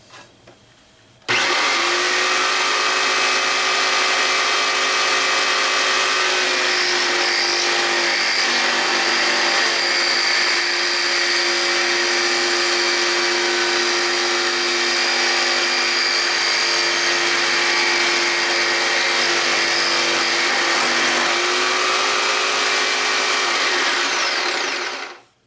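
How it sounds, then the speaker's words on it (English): Rockwell Bladerunner X2 tabletop saw cutting through 1-inch steel conduit with a sliding miter gauge, a loud, steady, close motor whine with a metallic grinding edge held for over 20 seconds, alone. "So now let's see how it does cutting through this 1-inch steel conduit."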